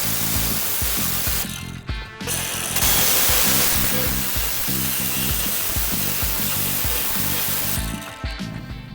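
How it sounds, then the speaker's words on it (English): Power tool cutting a rusty vertical rear end panel on a cheap Mazda MX-5, a loud continuous broadband hiss-whine with rhythmic pulsing low thumps and brief pauses around the cut. "So let's cut that vertical piece out and then see how we're going to get the rest out."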